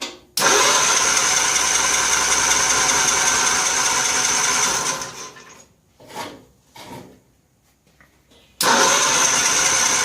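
1955 Cushman Truckster engine cold start: a loud, close, continuous cranking and rasping run that fades out, then brief sputters and near silence before the loud cranking resumes abruptly.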